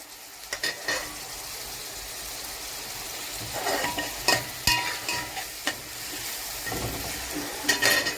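Crumbled onion fries with a steady close sizzle in a pan, broken by scattered scrapes and knocks of a spoon stirring it, with no voices.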